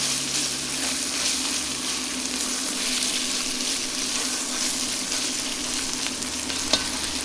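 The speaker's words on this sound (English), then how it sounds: "We're gonna cook the tomato paste for a little bit." Tomato paste cooks in a pan for a smoked BBQ Bolognese, giving a steady, close sizzle with faint stirring scrapes and one brief click near the end, with no voices.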